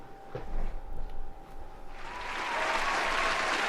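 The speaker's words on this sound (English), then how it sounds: "Just round of applause for that." Audience applause at an R&B showcase swells up after a few scattered claps and a short talking voice, building into a steady, broad wash of clapping that holds to the end.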